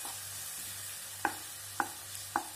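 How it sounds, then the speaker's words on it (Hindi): Masala with coriander powder, cooking for a green leafy saag of bathua, spinach and fenugreek, is stirred in a pan over low heat; three distinct spoon scrapes sound over a faint, quiet sizzle. "ये मैंने धनिया पाउडर डाल दिया है थोड़ा सा इसको दोबारा से चलाएंगे ताकि धनिया पाउडर अच्छे से मिक्स हो जाए"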